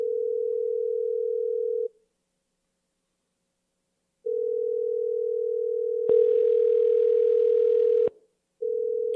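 A telephone line tone sounds during a redialed call, a steady pure tone in long on-off stretches with gaps of silence, briefly joined by a burst of hiss partway through.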